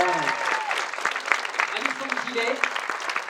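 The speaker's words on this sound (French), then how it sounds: "nous pouvons commencer à applaudir tous nos comédiens qui sont là" A conference audience applauds the French voice cast of The Lord of the Rings, dense clapping running steadily throughout while a voice speaks over it.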